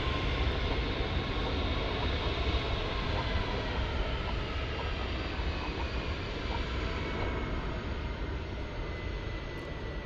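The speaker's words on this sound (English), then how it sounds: "787 Dreamliner, there she is." A Boeing 787 Dreamliner jet at DFW airport at night produces a broad, steady engine roar with a faint high whine, sustained and fairly distant, with no voices.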